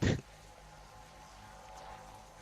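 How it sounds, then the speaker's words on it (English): A short loud burst, then a steady low electronic whirring hum of a Crypto drone in Apex Legends, holding at an even level. "that's the sound of a crypto drone."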